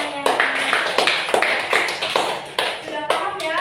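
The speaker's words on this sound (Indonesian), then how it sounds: "tepuk tangan untuk semuanya" Classroom of students clapping together in a burst of applause lasting a few seconds, sharp dense claps fairly close, with some voices mixed in.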